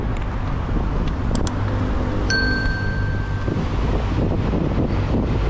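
Toyota Avanza 1.5 G-Spec automatic, a 2009 facelift model, driving along a road, with steady low engine and road rumble, some wind buffeting and a brief high ding partway through.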